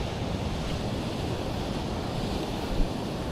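Ocean waves wash onto a California beach in gloomy weather, a steady broad roar of surf mixed with wind noise, with no voices.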